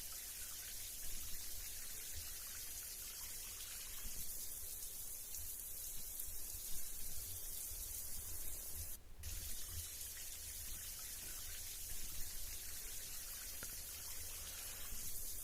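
A shower faucet runs with a continuous hiss of spraying and splashing water, steady and moderately close, with no voices.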